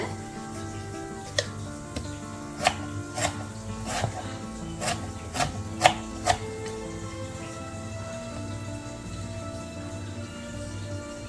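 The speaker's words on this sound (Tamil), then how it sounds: "இப்படி இந்த சைஸில் வெட்டி வச்சுக்கிறேன். அதையும் சின்னனா வெட்டுறேன்." A knife chops a tomato into small pieces on a board for a fried aubergine sambol, about eight crisp, close taps in a loose rhythm before the cutting stops.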